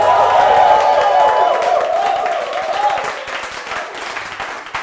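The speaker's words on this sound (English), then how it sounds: "A round of applause." Audience applause and cheering greet the DJ at a live quiz show, steady and dense at first, then thinning slightly while continuing to the end.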